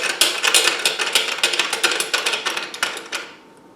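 Clamping knob on a Multiblades bracket fitted to a Festool Kapex being turned tight, giving a fast, close run of dry ratcheting clicks that continue steadily for about three seconds before stopping.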